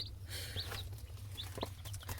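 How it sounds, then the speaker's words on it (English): A hen gives soft, quick clucks and chirpy calls close by, over a low steady hum. "she pecks and she starts making a little clucking noise"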